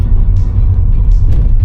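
A car rolls down into an old car park at Oakwood Park, its engine a loud, steady low rumble right up close with no talk over it.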